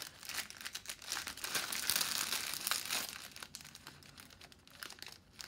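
Plastic packaging holding diamonds crinkles and crackles close up for several seconds, a quiet but steady rustle with no voices.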